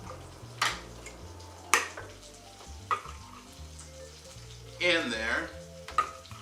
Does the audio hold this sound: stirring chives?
yes